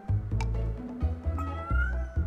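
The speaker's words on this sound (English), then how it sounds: "I'm trying to make my cat shut it, but she won't." A pet cat meows repeatedly and insistently, several loud, drawn-out calls close by, heard over steady background music.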